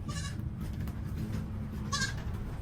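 A goat being treated for goat polio and tetanus bleats twice, short nasal calls about two seconds apart, fairly close over a soft background hum.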